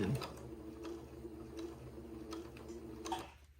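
A sewing machine runs a straight stitch on a Christmas dress, a quiet, steady mechanical ticking repeating at an even rhythm for a few seconds before it stops.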